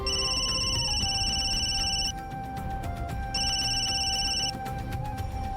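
An electronic telephone ringtone in a domestic drama scene, two bursts of a repeating high warbling ring separated by a short pause, loud and close with faint background ambience and no speech.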